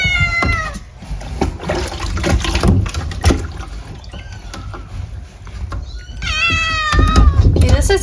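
A wet cat being bathed during ringworm treatment meows loudly and repeatedly in rising, drawn-out wails, up close over splashing water, with people talking nearby.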